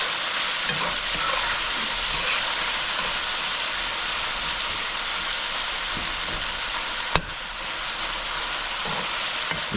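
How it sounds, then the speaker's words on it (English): Okra and other vegetables sauté in a pan for a Bangamary fish curry with green mango, giving a steady, close, loud sizzle and fry hiss that runs unbroken, with one sharp clink partway through. "So I'll let it saute."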